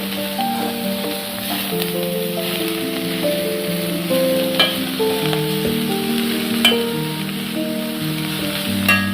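Mustard seeds and garlic frying in hot oil for a Kerala yam-leaf thoran, giving a steady close hiss with occasional sharp pops under faint tonal background sound.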